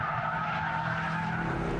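Tires of a Mitsubishi Evolution VIII with active yaw control and active centre diff skid in steady tail-happy cornering, a loud continuous squeal over engine roar with no talking.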